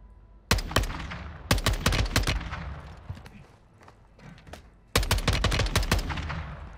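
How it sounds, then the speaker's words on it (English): Loud close bursts of explosive fire in the video game Call of Duty Warzone, with rapid volleys arriving in clusters separated by brief quieter rumbling gaps, as a mortar goes off nearby. "There's a mortar going off up here."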